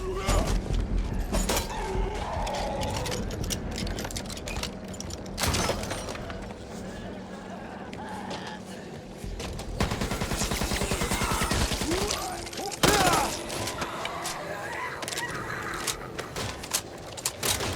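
Assault rifle fire in the zombie shooter Back 4 Blood, with dense bursts of rapid shots and mechanical clatter running almost continuously, loud and close, amid other game effects.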